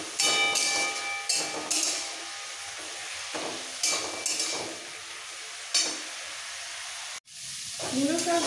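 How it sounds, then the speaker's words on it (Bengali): Radish greens with turmeric fry in a pan, a steady sizzle broken by repeated spatula scrapes and knocks against the pan, then a brief cutoff before more stirring. "মূলো শাক হালকা ভাজা হয়ে গেছে"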